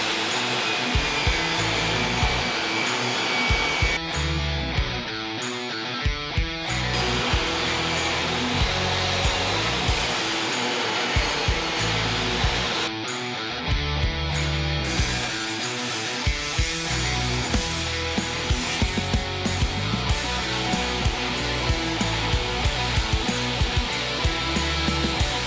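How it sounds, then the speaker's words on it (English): Miter saw whining steadily as it cuts narrow pieces of scrap wood while building a router table, a loud sustained motor drone with brief dips between cuts and no talking. "We're cutting the more narrow pieces on the miter saw just because it's safer than using the table saw."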